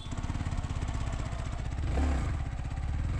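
A Yamaha R15 V3 motorcycle is ridden nearby, its engine giving a steady buzzing drone with a brief swell in revs partway through.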